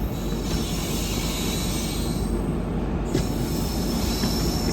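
A Madgaon–Mumbai LTT superfast express hauled by a WAP-7 electric locomotive rolls past on Indian railway track, a steady loud rumble of wheels with a brief squeal, continuous and close.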